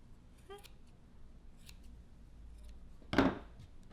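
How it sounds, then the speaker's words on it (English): Scissors trim a yarn pom pom, with a faint snip early on and one sharper, louder cut near the end against a quiet background. "he has a mustache, so I think I'll trim it off"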